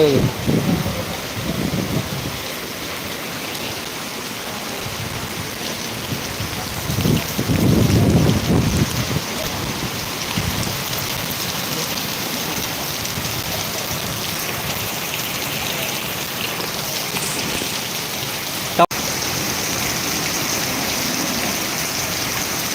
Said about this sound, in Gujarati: પાંથાવાડામાં ધોધમાર વરસાદ વધતી રહ્યો છે